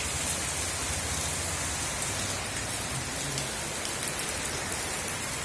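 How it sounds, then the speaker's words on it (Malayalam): Steady summer rain in Kerala pours down in a dense, even hiss, close and fairly loud, with no voices. "ഇപ്പോൾ താഴെ വന്നിട്ട് താഴെയുള്ള മഴയുടെ സീനാണ് എടുക്കുന്നത്"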